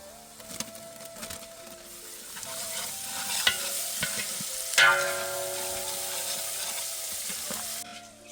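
Crushed garlic, ginger and chili tipped into green and dry onions frying in a pan, bringing a rising sizzle with sharp scrapes and clinks of a spoon stirring.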